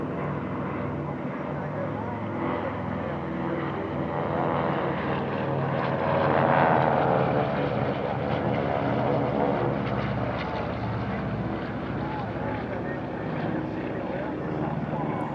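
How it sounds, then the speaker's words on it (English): Several Beech 18 twin-engine aircraft fly a formation change at a vintage warbird airshow, their propeller engines droning steadily and swelling slightly midway as they pass. A voice narrates over the engine sound. "This remarkable formation change sees the Beech 18s on either side of the formation rapidly"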